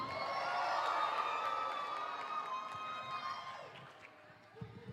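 An auditorium audience at a STEM keynote event cheering and whooping together, a fairly faint swelling roar that fades out over a few seconds.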